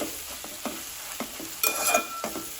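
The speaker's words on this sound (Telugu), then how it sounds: "గోంగూరని కలబెట్టుకున్నామండి చూసారు కదా ఆయిల్లోనైతే మంచిగా మగ్గిపోయి" Gongura leaves stirred while frying in oil: rhythmic spatula taps and scrapes over a low sizzle, with a brief louder crackling burst in the middle, close and without talk.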